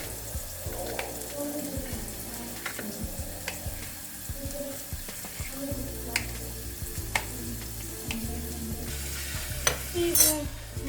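Bacon frying with onion and garlic in a pan, a steady soft sizzle punctuated by occasional crackles and the scrape of stirring, continuous and close.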